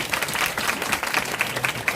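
A lecture audience claps after a business talk, giving brief, steady applause of many hands with distinct sharp claps repeating through the dense patter.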